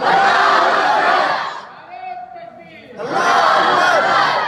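A large gathering at a Ramadan religious sermon loudly chants the takbir slogan in unison, two powerful shouted bursts separated by a short quieter gap.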